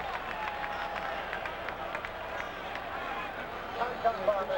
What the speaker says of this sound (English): Crowd getting noisy again.